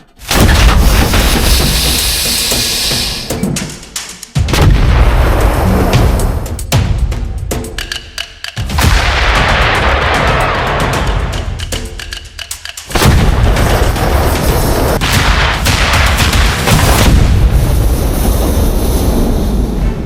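Several heavy, very loud blasts from a 122 mm self-propelled howitzer firing on a training field, each followed by a long rumbling roar that fades before the next shot, recorded close by.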